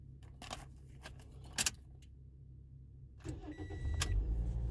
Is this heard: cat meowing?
no